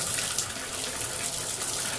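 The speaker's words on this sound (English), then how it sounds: "I'm only getting water out from the tub faucet" Water runs steadily from a tub faucet during a three-handle shower faucet repair, a constant broadband rushing hiss that stays level and close throughout with no talk.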